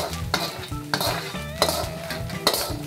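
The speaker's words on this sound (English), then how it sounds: "It's starting to get crispy. You can hear it like popping." Food frying in a hot wok with steady sizzling, crackling pops and occasional stirring clatter of a utensil against the pan, close and continuous without speech.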